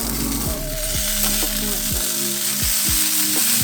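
Burger patties, bacon and other ingredients sizzle steadily on a grill, a continuous close frying hiss with faint tonal hums and repeated low knocks underneath.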